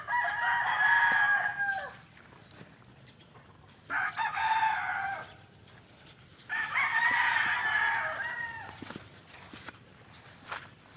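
Farm chickens being watered in a muddy yard crow loudly in three long, bold bursts, with softer clucking and scattered footsteps in the quiet gaps between.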